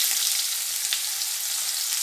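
Chopped onion sizzles in hot oil over a tempering of dried red chilli, for a Bengali mourala fish curry. The frying gives a steady, close, crackling hiss with no talking.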